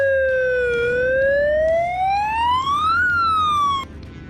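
Fire truck siren in the American Truck Simulator game, a loud clear rising and falling wail that sweeps up over three seconds, then cuts off abruptly, with faint engine rumble beneath.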